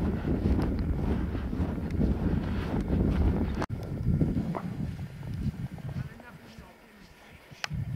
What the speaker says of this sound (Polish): Wiatr się ruszył trochę